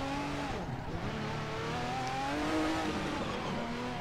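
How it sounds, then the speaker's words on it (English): A GP2 race car in Assetto Corsa, its engine droning steadily close up with rising and falling pitch through gear changes, with some tire noise underneath and no talk. "if you're driving a GP2 car as I'm driving it right now"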